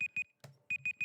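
An alarm beeps in quick pairs of short, steady electronic tones, pausing briefly with a dull thump before the pattern resumes, loud and close.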